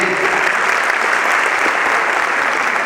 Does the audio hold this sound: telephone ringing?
no